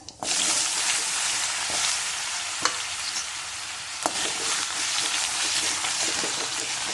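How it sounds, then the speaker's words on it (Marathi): Cumin seeds sizzle and crackle steadily in hot oil in a pan, a continuous dense frying hiss with a few sharper pops, close and fairly loud with no talking. "आता तेल तापलाय एक चमचा जिरं घालते जिरं चांगलं तळतळू द्यायचं आहे"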